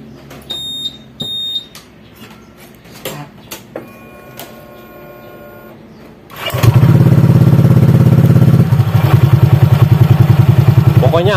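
Honda Vario 150 scooter with an upgraded CVT, heard after a few faint clicks and beeps as the engine starts up partway through and settles into a steady, loud close-up idle that runs to the end.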